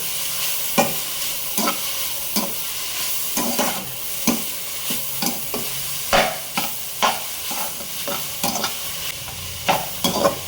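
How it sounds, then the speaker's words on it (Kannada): Lettuce is tossed into a sizzling mushroom and mixed-vegetable filling in a frying pan, with a spatula scraping and clacking in an irregular series of sharp knocks over a steady background hiss, and no talking. "ಲೆಟ್ಯೂಸ್ ಹಾಕ್ಕೊಂಡು ಜಸ್ಟ್ ಒಂದು 4 ಸೆಕೆಂಡ್ ಫ್ರೈ ಮಾಡ್ಕೊಳ್ಬೇಕು."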